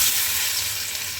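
Panch phoron and mango pieces crackle in hot mustard oil for a mango pickle, producing a brief, steady, close sizzle with no voices.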